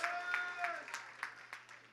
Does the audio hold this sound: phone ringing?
no